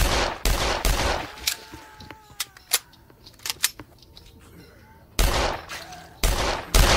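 M4A1 rifle fire in a zombie shooting video game: loud bursts of automatic shots open and close the stretch, with scattered single cracks and quieter clicks between them.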